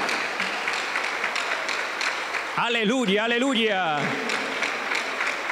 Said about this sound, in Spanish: Fuerte las palmas para Cristo